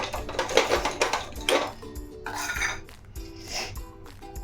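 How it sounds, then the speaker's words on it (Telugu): Cardamom pods pounded in a mortar and pestle in a home kitchen while making Bombay Karachi halwa, giving a run of sharp, close, rhythmic knocks and clinks, about nine strikes spaced roughly half a second apart, with no voices. "సిమ్లో పెట్టి ఈలోపు ఇలాచీని దంచుకుందాం."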